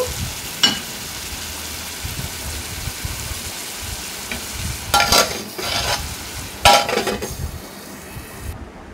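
Chopped tomatoes are stirred and cooked in a pan for a raw banana curry, with a close, fairly loud sizzle, scraping spoon strokes and a couple of sharp clatters against the pan; no voices.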